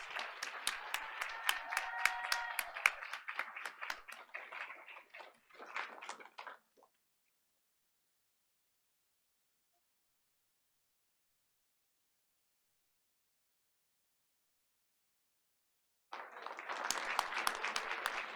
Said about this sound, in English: Audience, please give him another round of applause.